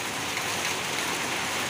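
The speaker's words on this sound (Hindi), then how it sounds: "पर बारिश तेज हो रही है पूरी" Heavy rain pours down steadily during a night storm, a dense, even hiss with no pauses and no voices.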